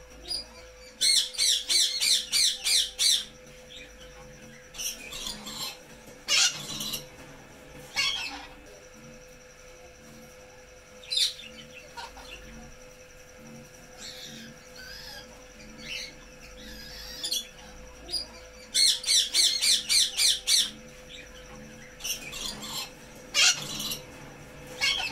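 Red-fronted conure parrot calls in bursts of loud, shrill squawks and chirps, clustered at the start and again near the end with quieter scattered calls between.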